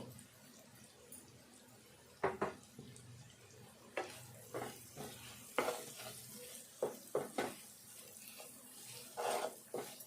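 Green chillies with salt frying in a pan: a soft, faint sizzle runs beneath a series of irregular stirring scrapes and clinks, close by and fairly quiet, with no talk.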